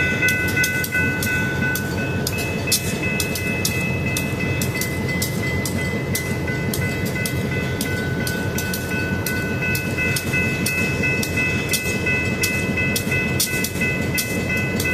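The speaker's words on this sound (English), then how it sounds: "I knew this was going to have a railroad in action here." Train rolling past a railroad crossing, a loud continuous rumble with rhythmic clickety-clack of wheels over rail joints and a steady ringing crossing-bell tone, no voices.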